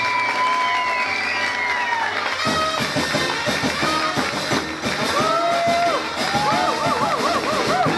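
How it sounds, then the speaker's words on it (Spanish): A crowd at a musicians' guild event breaks into loud applause and cheering with whoops after a quieter tonal opening, the clapping dense and sustained over a musical backdrop. "Vaya para ellos un fuertísimo aplauso"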